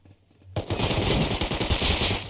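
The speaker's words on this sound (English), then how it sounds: "I've really been liking this custom LMG." A custom light machine gun in the survival game Rust opens up after a brief lull, firing a loud, rapid, sustained burst of shots close up.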